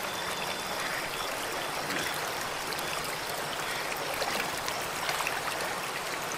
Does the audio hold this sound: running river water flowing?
yes